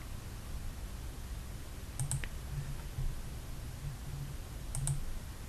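A computer mouse clicks a few times, in a double click and then another pair later on. The crisp, close clicks stand out over a low, steady room hum with no speech.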